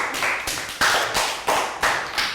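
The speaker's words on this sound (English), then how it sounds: "And a round of applause for Chu." A Year 3 class claps for a pupil. The crisp, close clapping comes in a steady, regular beat of repeated bursts, with no talking over it.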